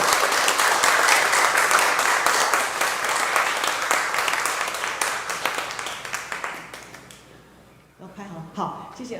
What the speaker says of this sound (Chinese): 我们给这些志工老师一个掌声，好不好？